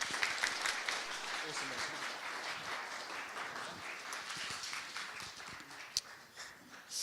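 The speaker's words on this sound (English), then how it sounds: "everyone give a big round of applause to Luke Brown" A meet-up audience gives a round of applause for a speaker, a dense crackle of many hands clapping steadily for several seconds with a few louder claps near the end, while some voices murmur underneath.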